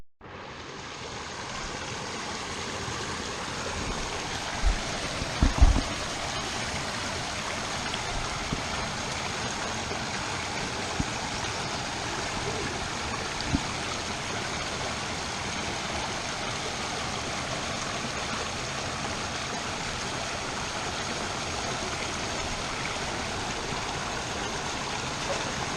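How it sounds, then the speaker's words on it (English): A forest creek in Los Padres National Forest runs strongly, a continuous broadband rush of water close by and unbroken, with a couple of brief knocks or footsteps early on and no speech. "The creek's been flowing strong from Ant Camp"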